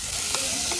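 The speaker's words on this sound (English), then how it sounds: "You're gonna cook some peppers." Peppers sizzling in a pan on a solar electric cooker heated to 162 Celsius, with a brief steady fry and faint stirring scrapes, heard alone without talk.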